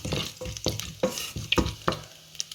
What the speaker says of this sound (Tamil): அதே சட்டிக்குள்ளே போட்டு இதை பொறிக்கலாம் இதை வதக்கலாம்